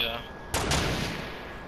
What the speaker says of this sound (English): Did you fire a sniper?